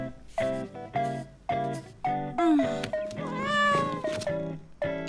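A cartoon cat meows again and again, about seven close, clear meows in a steady rhythm, some drawn out and wavering into a caterwaul, with nothing else heard.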